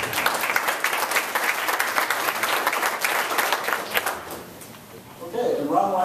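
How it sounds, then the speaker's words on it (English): An audience at a senator's town hall meeting breaks into applause, a dense, loud wash of many hands clapping that gradually fades before a voice begins speaking at the end. "How about a round of applause for Mr. Eubank?"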